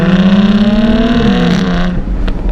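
Loud, close exhaust note from a Jaguar F-Type passing under a railway bridge, a rich rising drone that swells and reverberates before dropping off abruptly as the throttle lifts.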